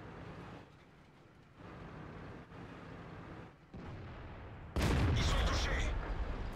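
A Batchat 25t, a tier 10 French medium tank in World of Tanks, fires its gun. A single loud, close blast cuts in near the end over a steady engine rumble.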